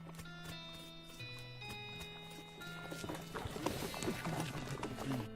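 Horse hooves clip-clopping in the West of Loathing game, a quiet regular trot under a steady tonal music bed, growing busier toward the end, with a voice speaking faintly over it.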